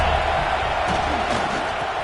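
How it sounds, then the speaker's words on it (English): A football stadium crowd roars in support of the defense on a third down, a steady, dense wall of cheering and noise that holds throughout at a consistent level. "The crowd gets behind this defense."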